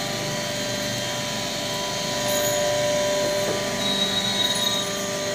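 A multi-purpose pulveriser machine at a rice mill grinds rice into flour, giving a steady, loud mechanical roar with a constant whine that runs unbroken throughout, with no talk.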